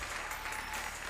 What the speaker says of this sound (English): clap your hands and salute all of our folks that work behind the scenes